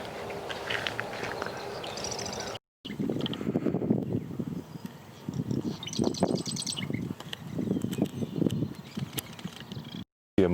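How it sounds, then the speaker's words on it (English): Marsh wren in a marsh giving short chattering and buzzy calls, moderately close, mixed with other bird chirps and rustling movement in the reeds. "A marsh wren on the other side"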